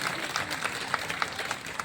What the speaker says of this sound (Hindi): एक बार जोरदार तालियां इनके लिए, हमारे सभापति के लिए।